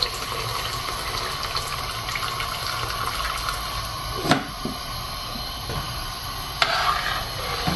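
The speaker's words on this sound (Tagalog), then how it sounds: "So lagyan lang natin siya ng tubig na ating crab na pinaglagaan." Water left over from boiling crab is poured into a cooking pot for a garlic butter prawn dish, a steady rushing splash that runs unbroken for several seconds with a few brief sharper clanks.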